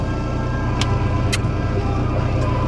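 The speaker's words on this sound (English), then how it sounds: "So much more traffic." Road traffic passing outside, a continuous engine rumble and tyre roar from cars close by, with a couple of sharp brief hisses cutting through the steady noise.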